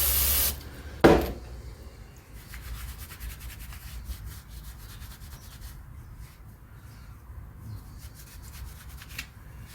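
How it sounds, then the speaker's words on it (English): Brake cleaner hisses from a spray can in one short loud burst, then an old T-shirt rag scrubs over brake parts from a 1974 Dodge D100 master cylinder job, a soft raspy rubbing that continues in uneven strokes. "let's use some brake clean in one of our old trusty rags"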